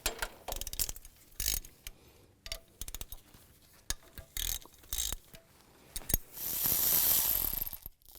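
A hand ratchet fitted with a 10mm socket clicks in short bursts while removing the timing chain guide bolts on a 2002-2009 Chevy Trailblazer engine, with intermittent metallic ratcheting and tool handling, ending in a longer rapid run of clicks.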